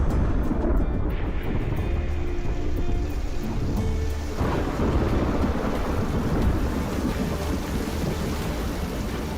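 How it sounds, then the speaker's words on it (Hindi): Heavy monsoon rain pours down steadily and loudly, while rolling thunder rumbles through and swells midway, keeping a dense, continuous roar throughout with no speech. "मॉनसून की बारिश ने गर्मी के मौसम के खत्म होने का इशारा कर दिया।"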